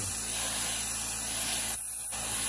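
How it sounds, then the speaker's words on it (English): A steady hissing spray from an aerosol can spray-painting a crankbait fishing lure, continuous and close, with a brief dip partway through. "we'll just give it a good spray and see how it comes out"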